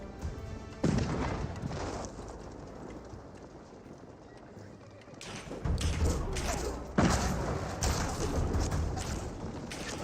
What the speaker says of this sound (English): This bombard placement just taking some pot shots against this outpost